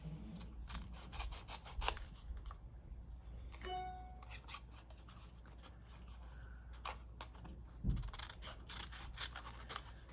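Scissors snip through paper for a mixed media art piece, giving a few quiet, brief cuts and scrapes against a low steady background hum, with a sharper snip near the end.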